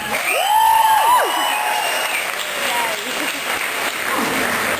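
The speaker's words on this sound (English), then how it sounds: "So give yourselves a round of applause." A concert crowd at a show applauds loudly, dense sustained clapping with cheers and a whoop rising early, continuing steadily as a full-room roar.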